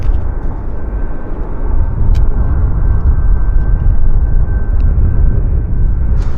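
An airplane landing on the north runway at Vancouver YVR airport gives off a loud, steady, broad low rumble that swells slightly midway and holds to the end, with no voices.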